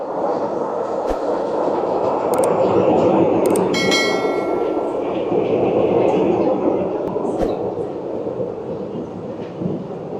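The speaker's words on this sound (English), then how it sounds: "the Peak Tram, and it is just down here" Hong Kong's Peak Tram, the city's oldest and steepest funicular up to Victoria Peak, rumbles steadily and close by, with a few sharp metallic clicks and a brief bell-like ring over the continuous rolling noise.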